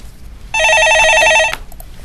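An office telephone rings loudly once, a bright electronic trill lasting about a second and ending abruptly, then a quiet room.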